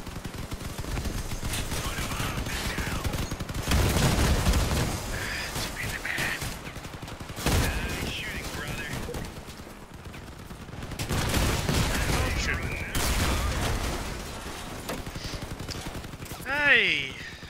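Gunfire in the vehicle combat game Crossout, with repeated bursts and rattling volleys of varying loudness across the stretch and a voice talking over parts of the action.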